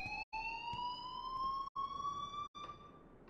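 An alarm rings in the video game Life is Strange, a steady electronic siren-like tone rising slowly in pitch, broken by three brief silent cuts.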